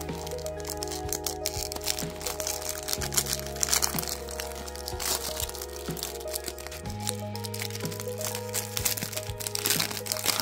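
A 2022 Mosaic Football cello trading card pack being ripped open, with crinkling and sharp crackling plastic that continues steadily over quiet background music.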